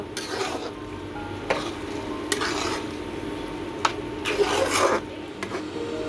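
Cabbage is sautéed with salt, turmeric and garam masala paste, heard as repeated scraping and rasping of a spatula against the pan, with a few louder strokes over a low background.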